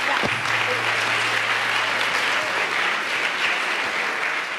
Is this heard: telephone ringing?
no